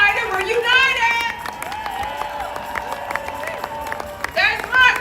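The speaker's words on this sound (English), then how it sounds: "Round of applause" A rally crowd at a "No Kings" protest in Chicago breaks into a round of applause and cheers, with scattered claps under shouting voices and crowd noise that swells again toward the end.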